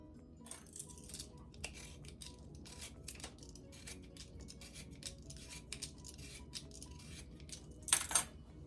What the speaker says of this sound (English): I am going to wash, peel, and cut more potatoes until I fill up my container.